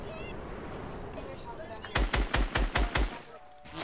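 Rapid bursts of automatic gunfire from enemies in a video game come after a stretch of quieter game ambience, loud and close, around eight sharp shots in quick succession, with a player's voice nearby.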